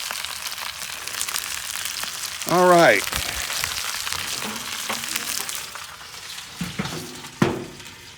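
Curry-seasoned chicken thighs sizzle steadily in a Lodge #10 cast iron skillet on a grill, a soft broad frying hiss running throughout while someone speaks briefly over it.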